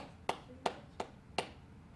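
One person claps four crisp, evenly spaced times in a quiet indoor room, each clap a short dry smack with a brief decay.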